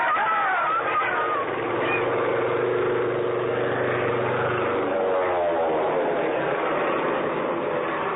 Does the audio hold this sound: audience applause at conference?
no